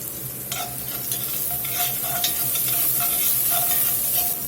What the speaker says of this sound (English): We'll go ahead and get us a good healthy pinch of pepper in. Let that start toasting up.